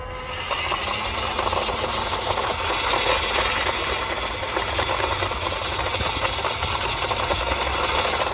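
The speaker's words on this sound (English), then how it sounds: "Obviously it's only a single speed, a little 180 size motor, so let's see what it's like full throttle." The small 180-size brushed motor of a WPL C24 RC crawler at full throttle gives a continuous, steady high-pitched whine with a rattling gearbox drone. It stays constant throughout, with no talk.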